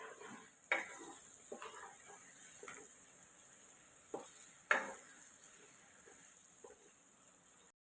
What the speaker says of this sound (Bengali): এর মধ্যে আমি 6-7টা কাঁচা লঙ্কা কুচি দিয়ে দেব, দিয়ে একসঙ্গে ভাজবো।